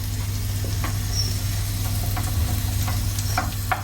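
Sliced mushrooms hit hot bacon fat in a gas-heated pan, giving a steady close sizzle with light scattered crackles and stirring scrapes throughout.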